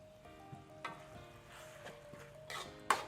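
Mee goreng fried noodles with egg, chilli powder, garam masala and turmeric are stirred in a hot pan over low heat, giving a soft, quiet sizzle broken by a few short scraping bursts and one sharper clatter at the end.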